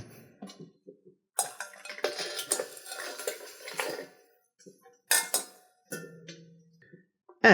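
Pasta going into a pan of sauce while making pasta alla gricia, heard as a series of metallic clinks and scrapes of utensils against the pan, with brief bursts separated by quiet gaps.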